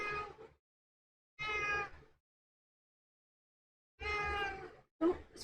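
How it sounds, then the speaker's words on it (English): A chunky male house cat meows several times close to the microphone, with drawn-out tonal calls separated by pauses and a short final chirp, with no talking. "Oh, my cat's back."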